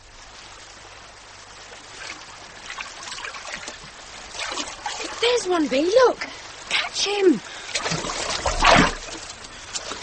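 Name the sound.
river water trickling, radio drama sound effect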